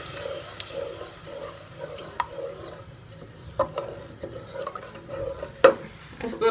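A spoon stirs and scrapes masala with tomatoes and yogurt as it fries in a pan for sultani dal, a low continuous sizzle broken by several sharp clinks of metal on the pan, close and alone with no talk.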